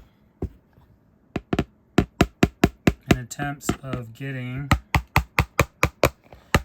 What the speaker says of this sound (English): I'm going to tap this bowl with